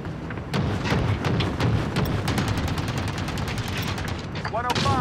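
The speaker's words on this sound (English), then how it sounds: "Allied cluster strike." Call of Duty: Modern Warfare allied cluster strike lands as a dense, rapid barrage of explosions and gunfire-like bursts, rolling on loudly for several seconds after a brief quiet start.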